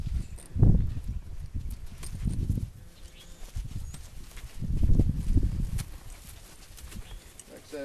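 An unhandled colt moves about in a pen, hooves clopping in uneven low thuds at close range under ongoing talk.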